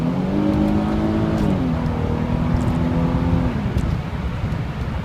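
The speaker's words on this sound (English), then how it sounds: "I can do a double downshift and floor it." An Infiniti G with a manual shift gate drops two gears and goes to full throttle, the engine note jumping in pitch and then climbing steadily under heavy acceleration. The drone is loud, continuous and heard from inside the car, with no talk.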